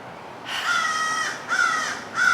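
Crow cawing on a New Orleans street, three drawn-out harsh caws in steady succession, fairly close and loud, with no talk over them.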